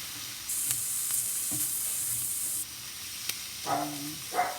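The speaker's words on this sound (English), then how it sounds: "Now you can incorporate mixing with the spam and then cover it again." Spam being stirred as it fries in a covered pan for a family recipe, a steady loud sizzle with a few scraping stirs, then brief clattering knocks of the utensil near the end.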